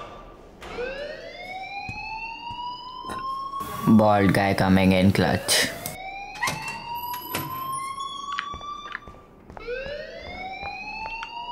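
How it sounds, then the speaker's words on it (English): Fire alarm in the video game Life Is Strange, loud rising electronic whoops repeating every few seconds, with a burst of harsh buzzing in the middle and a voice briefly speaking over it. "please turn off that alarm"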